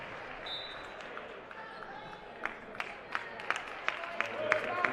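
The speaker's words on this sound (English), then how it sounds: "Parker to the bench with a round of applause." In a high school boys basketball gym, a crowd gives a modest round of applause as a player heads to the bench. The clapping is scattered and builds toward the end, and a commentator talks over it.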